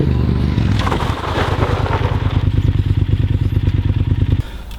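Motorcycle engine running steadily with ABS switched off, a deep rhythmic throb dominating the clip, loud and close, with a brief rising surge near the start before settling, then cutting off abruptly near the end.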